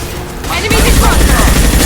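Gunfire in Mass Effect 2 video game combat, a dense loud clatter of rapid shots starting abruptly after a brief lull, close and continuous, mixed with battle noise.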